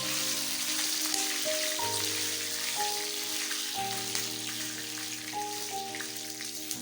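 Whole red chilies sizzle in hot tempering oil for a kadhi pakora tadka, giving a steady close frying hiss that runs beneath louder tonal background music throughout.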